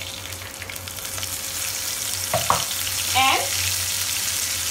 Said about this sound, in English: Let them fry for a while. They are nicely fried.